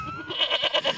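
A goat bleats in a few quick, wavering cries, fairly close and loud, with no one talking over it.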